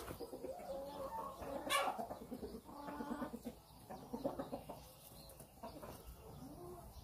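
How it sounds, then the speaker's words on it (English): Backyard chickens on a hobby farm, just let out of their coop, cluck and murmur softly at close range, with one louder squawk near the start and no talk. "let the chickens out here really quick and let them do their thing"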